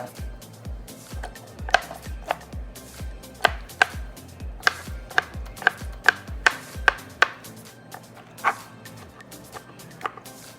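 A knife chops soft canned peach pieces on a board in a quick, steady run of about fifteen close, crisp taps that thin out into a few scattered strikes near the end.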